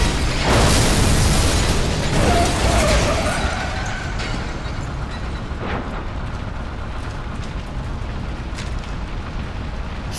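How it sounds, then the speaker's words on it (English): High explosives detonating in Vanquish, a loud broadband blast at the start with a rumbling roar that decays over several seconds into a steady lower wash of noise. "remember the high explosives equipped in the suit"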